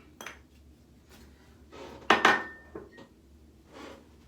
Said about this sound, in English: I go ahead and dry out the bowl thoroughly